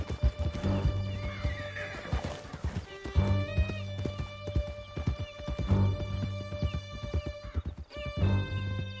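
Horse hooves clip-clop at a steady gallop with snorting and whinnies in a Red Dead Redemption 2 game ride, the beat loud and close and continuing throughout.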